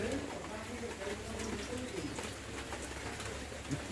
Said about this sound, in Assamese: এতিয়াও বৰষুণ ডিপিক ডাপাক দি আছে বৰষুণ